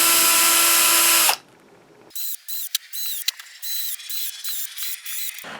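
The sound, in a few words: drilling holes in a rotocast piece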